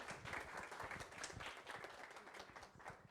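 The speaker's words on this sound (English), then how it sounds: "Let's give her applause." An audience at a university mechanics competition welcomes the university president with dense, continuous applause, heard fairly faint and distant with no talking.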